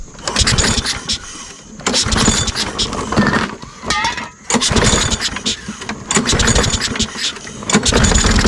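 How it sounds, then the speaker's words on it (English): An engine cranks and fires on starting fluid, rough bursts of running that rise and stall briefly before catching again, loud and close throughout. "It did start on starting fluid."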